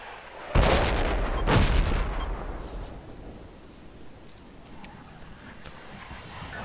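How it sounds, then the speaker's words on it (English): In the combat game Project Reality, two heavy mortar blasts land about a second apart, each a loud, sharp burst, followed by a long rumbling decay over quiet ambience. "Mortars are close to me."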